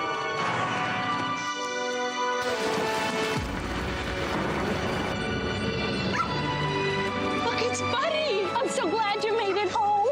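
A small white puppy in a GoDaddy Super Bowl ad whimpers, yips and barks close by, its high whines rising and falling over a musical backdrop, growing more frequent and urgent toward the end.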